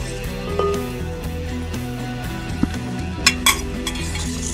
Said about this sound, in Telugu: అల్లం పచ్చివాసన పోయిందాక మంచిగా ఫ్రై చేసుకోవాలి ఆయిల్లో